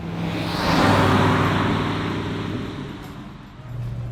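A 1970 Ford Mustang Boss 302 drives along, its engine a steady close low drone with a swell of revving around the first second, then easing back under road noise, with no one speaking.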